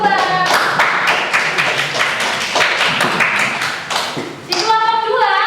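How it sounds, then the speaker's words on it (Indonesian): Clapping for group two in an Indonesian school classroom, a dense burst of many hands patting close by for several seconds, with voices heard briefly at the start and end. "Tepuk tangan untuk kelompok kedua."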